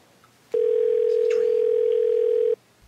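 A steady telephone dial tone sounds for about two seconds while a call is placed to a pizza shop, loud and alone, starting and stopping abruptly.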